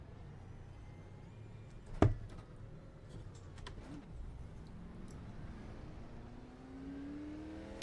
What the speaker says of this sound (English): you may have just heard the 4 car goes for a spin